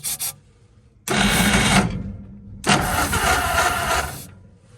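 A 1949 Ford F-5 truck with a flathead V8 engine starts after a long idle, with two loud bursts of rough cranking and catching, the second longer and fading slightly, separated by a quieter pause.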